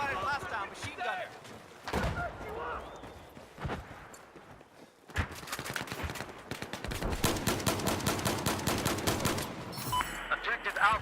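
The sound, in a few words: machine gun fire in video game Battlefield 4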